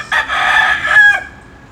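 A rooster crows once, loud and close, in a backyard coop, a single raspy call lasting about a second that fades into quiet with no talking.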